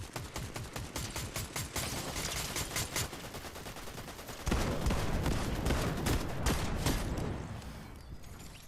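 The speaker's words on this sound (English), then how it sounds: "Somebody else shooting at me?" Rapid automatic gunfire rattles in a video game, a dense, loud stream of shots that turns heavier and more continuous midway before easing off.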